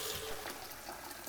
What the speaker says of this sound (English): We'll fill this up with warm water.